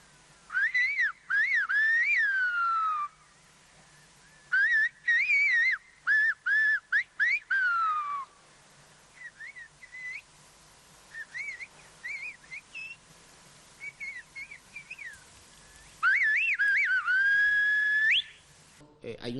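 Silbo, the whistled language of Canary Islands shepherds, rings out in clear, piercing phrases of gliding and warbling pitches, separated by short pauses, carrying loudly over a quiet background.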